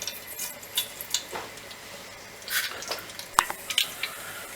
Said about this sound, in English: our mustard seeds are just popping now